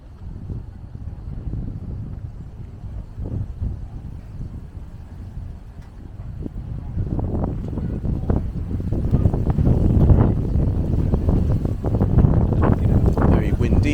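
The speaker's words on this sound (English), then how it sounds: "Very windy here." Wind at Battersea Power Station buffets the microphone in a continuous low rumble that grows stronger and gustier toward the end, with no speech.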